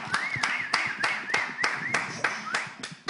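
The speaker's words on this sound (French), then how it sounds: "d'applaudir le professeur Camille" A TV studio audience claps for a visiting professor in a sharp, regular rhythm, about three beats per second, over a warbling melodic tone, with faint voices in the background.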